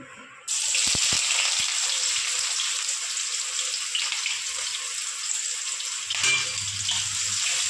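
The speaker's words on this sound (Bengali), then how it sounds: "পেঁয়াজটা একটু হালকা লাল করে ভেজে নেব" Chopped onion hits hot oil already tempered with dried red chilies for a lentil dal, setting off a loud, steady sizzle that starts abruptly and holds, with a low hum rising near the end.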